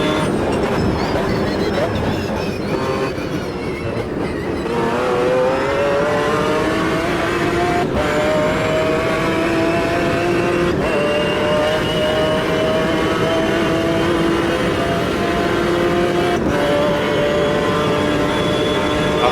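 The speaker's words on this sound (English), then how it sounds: "The sound of the car is just unbelievable." A race car engine in the video game Automobilista 2 drones and revs steadily throughout, its pitch climbing and falling through gear changes, loud and continuous with no talking.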